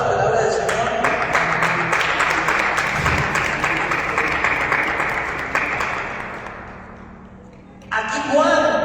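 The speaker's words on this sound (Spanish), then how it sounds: "Den un fuerte aplauso a la palabra del Señor" A church congregation applauding during a sermon, with steady crowd clapping that swells and then slowly fades over several seconds before a voice resumes speaking.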